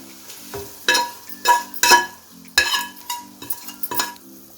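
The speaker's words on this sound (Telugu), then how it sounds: "తాలింపు అయిపోయింది, ఇప్పుడు దీన్ని పప్పులో ట్రాన్స్ఫర్ చేసుకోండి" Hot oil tempering seasoned with asafoetida is stirred in a metal pan for lentil dal, producing loud sizzling and frying bursts with repeated scraping spoon strokes, close up and without talk.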